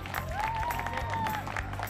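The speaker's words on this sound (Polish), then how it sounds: "wielkie brawa" Applause from a Polish cooking-show audience welcoming TV chef Mariusz Siwak, steady dense clapping with a sustained tone and music running underneath, moderately loud throughout.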